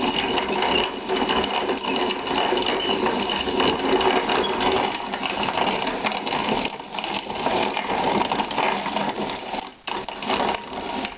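An Estrella grinder crushing dried mesquite pods produces a continuous, loud grinding and rattling churn, steady throughout with brief dips, close up and with no voices.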